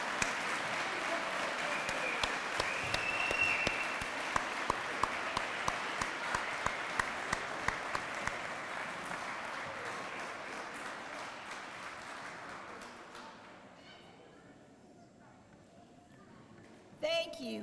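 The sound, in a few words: audience applause for veterans at Veterans Day event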